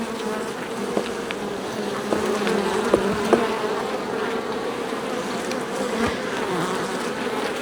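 Honeybees buzz densely around an apiary during the annual honey harvest, a continuous close droning swarm with a few individual bees passing nearer, without any voices.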